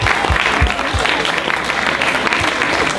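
An outdoor crowd applauding at a Quebec national holiday celebration in Sainte-Julienne, steady loud clapping with a few heavy thumps near the start.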